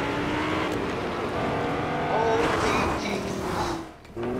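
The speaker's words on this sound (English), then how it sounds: "And this car is going super fast." Lamborghini car in the Fortnite video game driving fast, with a loud, steady engine roar that swells and then eases off near the end.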